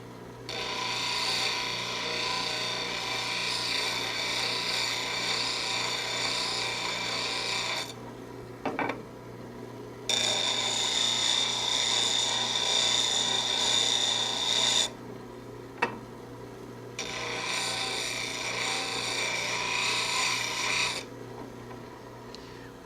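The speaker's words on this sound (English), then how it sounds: "When you're grinding any double bevel tool, as with this or with the parting tool" A skew lathe tool is ground on a bench grinder in repeated raspy passes with short pauses between them, steady and close, with no talking.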